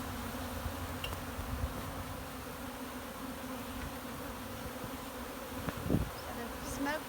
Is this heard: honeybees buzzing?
yes